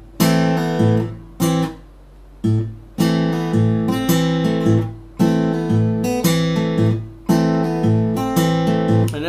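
Fingerpicked guitar in a Travis picking pattern, an alternating bass thumb under plucked treble notes, played close and bright in steady repeated measures with short pauses between phrases.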